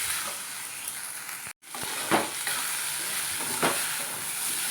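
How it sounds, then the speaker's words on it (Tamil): Food being stirred in hot oil in a pan over a low flame: a dense, even sizzle with a few soft spatula scrapes, one brief dropout partway, close and without voices. "அடுப்பை சிம்மில் வச்சுட்டு நம்ம வந்து நல்லா கலந்து விட்டுட்டு"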